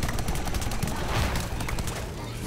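Rapid bursts of gunfire from Plants vs. Zombies: Garden Warfare 2 crackle steadily at a distance, dense and continuous, with faint bird-like chirps in the background.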